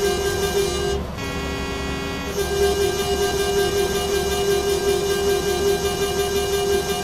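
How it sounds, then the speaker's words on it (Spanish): Truck horn sounding in a driving video game, a steady loud tonal blare that holds for several seconds over continuous engine hum, with a brief break early on. "Hay que tocar la bocina."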